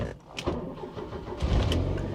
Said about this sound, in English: Now let's see if we can start it.